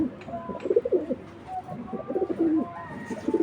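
Young racing pigeon cooing in a loft, a light-coloured bird, with repeated low throaty coos rising and falling close by, other faint bird calls around and no talk.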